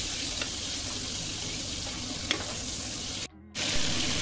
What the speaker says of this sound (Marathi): बटर छान विरघळलं की त्यामध्ये एक जिरा आणि मोहरी आपण फोडणीला देणार आहोत